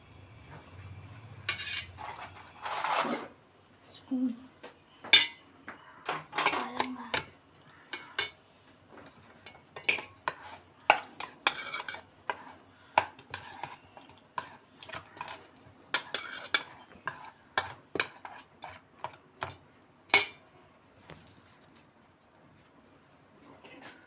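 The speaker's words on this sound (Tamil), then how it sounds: "இப்போ இதை வந்து நான் நல்லா கல கலந்துக்கிறேன்" A spoon clinks and scrapes against a pan as green chilli is stirred into mushroom rice, a close run of sharp irregular knocks with quiet gaps and a faint low sizzle early on.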